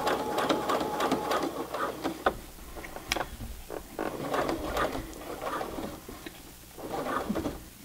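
A Brother PC 420 sewing machine hems jeans with slow, uneven bursts of stitching: choppy mechanical clatter and thumps as it works through the thick denim seam, close and moderately loud.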